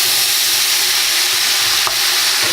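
Vegetables for bhaji, with onions, turmeric and curry powder, sizzle steadily in a frying pan while being stirred, a constant close hiss with small scraping bumps and no voices.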